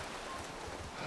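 Horse hooves clip-clopping in the video game The Last of Us, a faint, brief stretch of soft steady clopping mixed into a rustling background.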